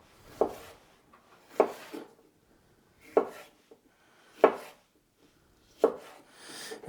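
Five slow, evenly spaced knife chops cut vegetables for a salad and stir fry on a board, each a crisp close thunk with quiet pauses between.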